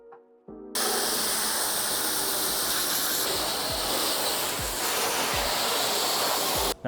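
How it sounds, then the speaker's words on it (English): An IK Foam Pro 2 electric foamer pump kicks on after a short mechanical lead-in and sprays a steady, loud hiss for several seconds, with faint thuds beneath, then cuts off abruptly. "And now the pump kicks on."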